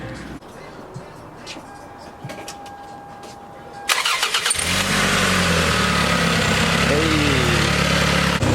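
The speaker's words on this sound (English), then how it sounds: "Start it up real quick." A Corolla or Camry wagon engine cranks over and catches, then settles into a steady, loud idle close by, with people talking before it starts.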